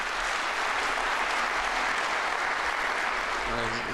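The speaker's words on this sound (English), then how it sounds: "By the way, you applauded to yourselves." Audience applause fills a hall during a Putin speech at an economic forum: dense, steady clapping that holds at an even level from start to finish.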